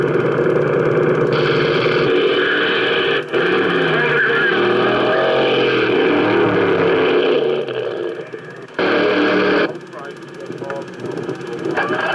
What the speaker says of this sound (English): Graeme Stockley, driving the Entertainer Fuel Coupe, made his first ever appearance at the NDRC Midlands meeting in August